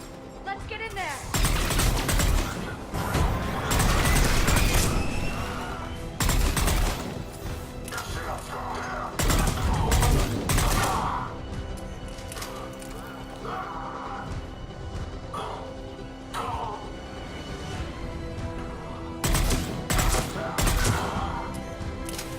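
Mass Effect 3 firefight at a checkpoint, with loud bursts of rapid gunfire, crashes and thuds coming in clusters among mechanical noise and game score, while voices talk over the shooting.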